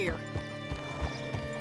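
Horse hooves in Red Dead Redemption 2 clip-clop at a steady walking rhythm, with a voice talking over them.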